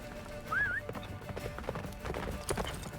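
Roach, Geralt's horse in The Witcher, gallops at speed through a snowy blizzard, hooves beating in a quick steady clip-clop with a short whinny near the start, mixed with wind and ambient noise.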